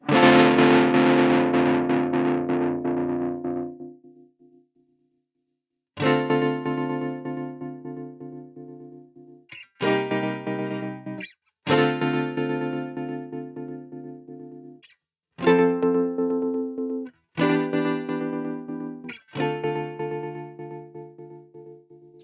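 Guitar notes processed through a Sequential Pro 2 synthesizer, with a heavy distorted, synth-like tone, played in separate bursts with short pauses between, loud and close.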